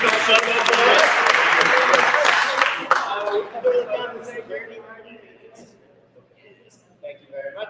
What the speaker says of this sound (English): Can we give a round of applause to someone who's willing to take a photo for us?